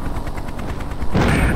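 Mujahideen enemy ground fire in a Hind helicopter simulator comes as rapid rhythmic bursts of gunfire, followed by a louder, broader rush near the end.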